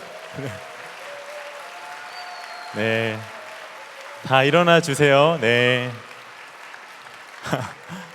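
A church young adults' worship crowd claps continuously in the background while someone speaks over it in short amplified phrases.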